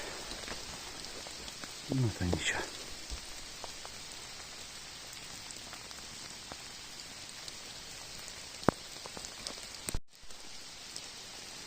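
Steady light rain patters on a Carpathian forest in April throughout, with a brief voice speaking near the start and a couple of sharper drips or taps later.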